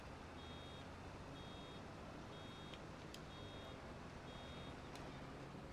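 Faint, repeated reversing beeps from a farm vehicle in Farming Simulator 25 pulse steadily over a loud, constant engine and background rumble, with a few sharp clicks between them.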